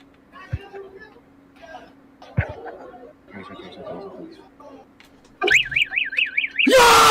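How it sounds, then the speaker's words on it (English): A fire alarm goes off inside a school with a loud warbling siren after a sudden bang, then shifts to a harsh continuous ring. People chatter and laugh quietly before the alarm starts. "Did he just pull a fucking fire alarm?"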